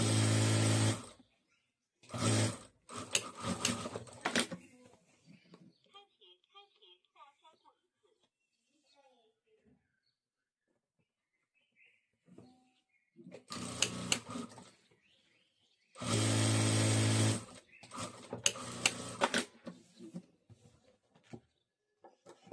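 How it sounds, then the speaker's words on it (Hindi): A sewing machine runs in loud bursts while stitching lining onto a triangle bag, with two main runs separated by quieter stretches of handling and someone talking. "यहाँ हमें सिलाई करके अस्तर जोड़ देना है।"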